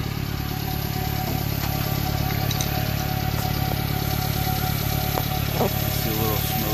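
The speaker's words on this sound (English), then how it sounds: "Let me get out and test the engine. You can see how quiet they are." A Subaru Sambar kei truck engine idles steadily up close, a continuous even hum with a faint mechanical tick, with someone talking over it.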